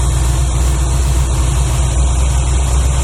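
A 1981 Chevrolet Malibu Classic barn find idles roughly up close, a loud, steady low engine rumble with no talking.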